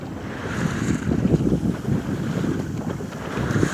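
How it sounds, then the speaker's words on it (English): Wind buffets the microphone aboard a sailboat out beyond a race course, with steady gusting roar and water wash around the hull, loud and continuous throughout. "Definitely feel like I'm in better breeze out here than is on the race course."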